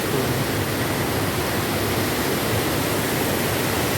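Rushing water from a river current in barangay Portic, Bugallon, Pangasinan, Philippines, a steady, loud broadband roar that never lets up.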